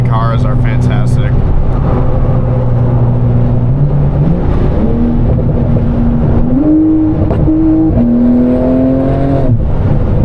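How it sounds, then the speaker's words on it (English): Loud, steady drone from an Audi R8 V10 with an F1 exhaust, stepping up in pitch several times as the revs climb toward high RPM. "V10 just sounds so raw when he's at a high RPM. It sounds so good."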